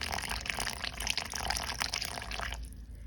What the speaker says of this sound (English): I'm gonna pour my water directly into my mixture until I reach 60 grams